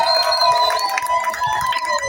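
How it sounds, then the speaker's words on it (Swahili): A crowd at a wedding fundraising celebration ululates, with several wavering, high trilling voices overlapping in a dense, continuous, fairly loud chorus mixed with general crowd noise. "Hizo vigelegele hazitoshi. Vigelegele vya harusi."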